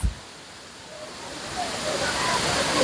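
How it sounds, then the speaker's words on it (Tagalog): Tinago Falls in Lanao del Norte, a waterfall giving a steady, dense rushing roar that swells slightly louder over a few seconds, heard up close with no clear words over it. "Mauna niya ang Tinago Falls from Lanao del Norte."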